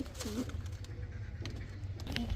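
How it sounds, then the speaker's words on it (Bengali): Pakistani teddy pigeons cooing softly in a loft, a few low throaty coos rising over steady background rumble with faint higher bird calls. "এই যে কবুতরগুলো দেখেন"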